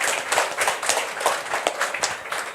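An audience at a consultation workshop applauds with a dense, continuous patter of clapping hands, moderately loud and sustained throughout, with no talking.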